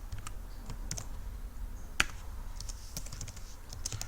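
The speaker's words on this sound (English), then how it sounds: "I can use my keyboard" Light, irregular key taps from a computer keyboard, one sharper click standing out midway, with no talking.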